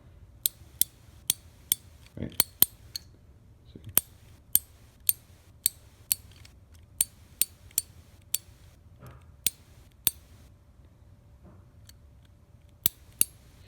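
Pittsburgh socket wrench from a 40-piece set, about 40 teeth, ratcheting in crisp separate clicks that come in short bursts and single ticks, close up, over a quiet low hum.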